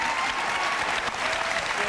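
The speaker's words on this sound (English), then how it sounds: "men clapping too." A television talk-show studio audience applauds in a dense, steady wash of clapping that holds loud and even for the full two seconds.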